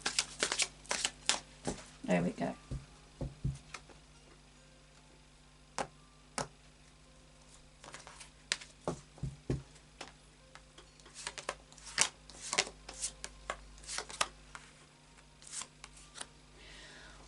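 A tarot deck shuffled by hand, repeated crisp riffles and card slaps in irregular bursts, close and clear, with a brief spoken remark partway through.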